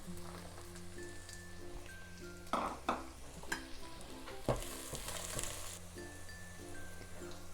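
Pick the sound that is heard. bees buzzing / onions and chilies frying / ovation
onions and chilies frying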